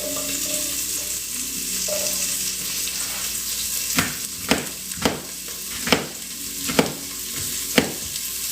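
Onions sizzling and frying in butter in a hot cast iron pan, a steady close hiss with a series of sharp knocks and scrapes from stirring, no talking.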